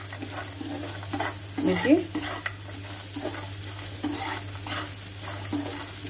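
Peanuts fry and sizzle in hot oil in a pan while being stirred for tomato poha, a steady close sizzle with scraping stir strokes and a louder burst partway through; a voice briefly speaks.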